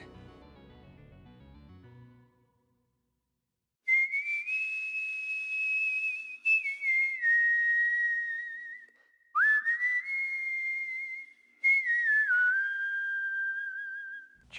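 A person whistles a sustained melody in long held notes, several phrases separated by brief gaps, after a few seconds of low music that fades to silence.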